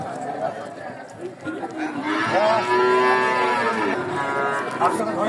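A bull at the Aranakhola livestock market lets out a long, loud, drawn-out moo close by, while people talk nearby and crowd chatter runs underneath.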